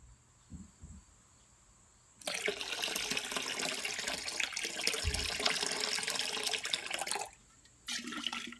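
Yeast starter liquid is dumped into a beer fermenter during all-grain homebrewing, a loud sustained splashing pour lasting several seconds, stopping briefly, then resuming for a short final splash.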